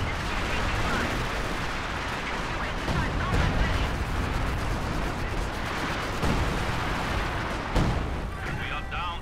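Heavy artillery bombardment in a 3v3 Steel Division-style match on the Port of Hamburg map, with dense continuous rumbling blasts and scattered sharp impacts, a voice talking over the barrage.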